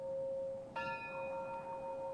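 A large bell at a sacred summit in Sri Lanka, over 2,200 metres up, is struck by pilgrims. One clear strike rings out and its long bright tone hangs and slowly decays over a steady background.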